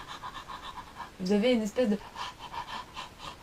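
A yoga instructor imitates a panting dog with throat breathing, a short burst of rapid, rough breaths that stands out from a quiet room, with speech before and after it.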